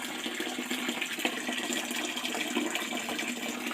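Tap water runs steadily into a sink during dishwashing, a continuous broadband splashing and hiss at moderate level with no speech over it.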